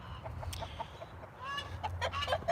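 Bantam roosters and hens in a chicken coop, with soft clucking through the background and a couple of short, thin crowing calls near the end, fairly quiet and close, nobody speaking.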